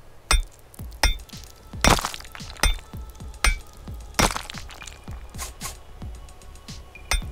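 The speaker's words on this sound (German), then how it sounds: "Wieder Glasbruch." In the video game Rising World, glass breaks repeatedly, a quick series of clinks and shattering cracks, some sharper and louder than others, close up and with no talking.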